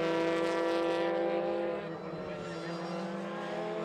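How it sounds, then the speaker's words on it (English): Race car engine at Knockhill circuit, a steady loud harmonic drone that shifts pitch as the driver works up through the gears, sustained and close throughout. "Ron Cumming, it sounds like he's managing to go up gears now"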